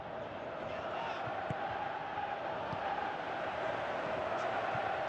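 A football stadium crowd in the PES video game keeps up a steady, dense roar of massed voices, distant and unbroken, with faint thuds scattered through it.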